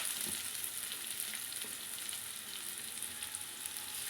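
Green chillies and mint sizzling in hot oil for a chicken feet fry, a steady bright crackle and hiss running without a break, close up and alone.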